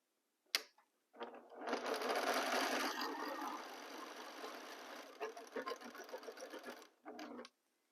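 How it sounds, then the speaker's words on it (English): Sewing machine stitching two quilt sections together for a Churn Dash quilt, a steady close whirring run of several seconds after a brief start, with short pauses and one final burst; no talking. "And then we sew these 2 sections of the third row."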